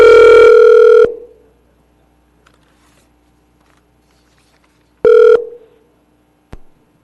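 Telephone dial tone on a council meeting call line as a caller's connection drops: a loud steady tone for about a second, then near silence, then another short burst of tone and a faint click.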